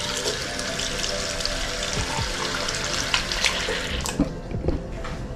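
Hot water gushes steadily from a resort bathroom tap in a continuous hiss, with a few small clanks and knocks near the end.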